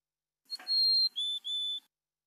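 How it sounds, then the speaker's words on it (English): Mountain chickadee song recorded during a birding-by-ear session in Truckee Meadows: a brief rustle, then three clear, sustained whistled notes, the first higher and longer and the last two slightly lower, heard close and alone. "Anyway, so this is a mountain chickadee song."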